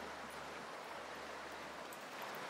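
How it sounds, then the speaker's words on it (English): A tiny waterfall of a stream spills into the Green River, giving a faint, steady broadband rush of running water throughout with no talking. "A little itty-bitty waterfall of a stream coming down and running into the river"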